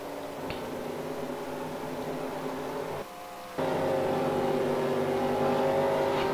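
Race car in a Pro Cup event at Phoenix rolling down pit road, a steady droning engine note held at a constant pitch, briefly dipping in level before resuming strongly, with no talk over it.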